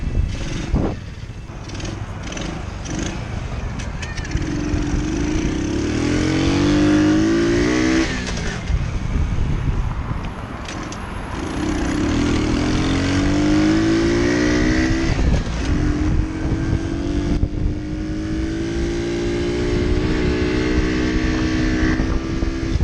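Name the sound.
Amstar Nostalgia 49cc cafe racer engine while riding in first gear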